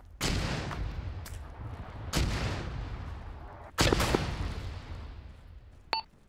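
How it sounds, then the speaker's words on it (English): Mortar fire in a military video game, three heavy booming blasts spaced about two seconds apart, each with a long rumbling decay, followed by a short electronic beep near the end. "We are under mortar fire."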